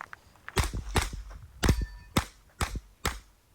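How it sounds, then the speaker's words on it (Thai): Revolver gunshots at an IPSC shooting match, six sharp reports in a steady rhythm, each cracking loudly against a quiet background with brief echoing tails. "เป้งไปปั๊บ อ่าแล้วก็มายิงอีกฝั่งนี้ห้านัด"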